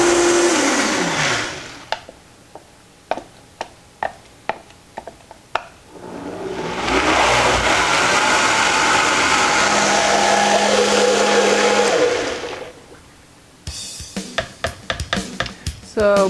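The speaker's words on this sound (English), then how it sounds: "And then I'm going to blend again until it's smooth and slightly warm." Blender whirring through raw chocolate pudding until smooth, a loud steady roar lasting several seconds, framed before and after by scattered clicks and knocks from handling the machine.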